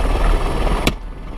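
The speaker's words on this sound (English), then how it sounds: "A helicopter crew is used on the outskirts of town and in the surrounding area" A helicopter used for wrangling bighorn sheep on the outskirts of town, its loud, steady rotor and engine drone close and continuous, with a brief sharp burst near the end.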